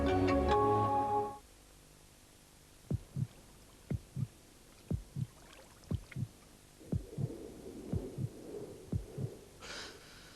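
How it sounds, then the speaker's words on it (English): Slow, regular heartbeat thumps in a Ford TDCi diesel car advert, about a dozen distinct double-pulse beats following a brief musical opening, with a soft hum rising beneath the later beats. "The loudest noise you'll hear will be your heartbeat."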